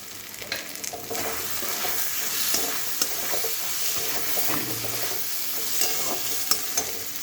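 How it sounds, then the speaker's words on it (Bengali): Boiled peas being stirred into frying spices in a pan for ghugni, with a steady close sizzle and repeated scraping, clattering strokes of the spoon. "মশলার সঙ্গে আমি একসঙ্গে এটা মিশিয়ে দেবো।"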